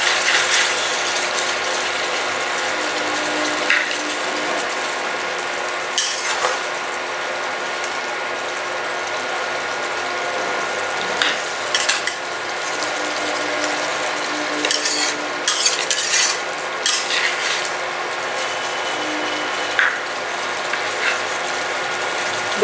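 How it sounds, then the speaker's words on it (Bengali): Eggplant being stirred in a wok for a yogurt eggplant dish, a steady close frying hiss with intermittent scraping and clicking stir strokes throughout. "কড়াইটা একটু নেড়ে দিচ্ছি তলায় যাতে না লেগে যায়।"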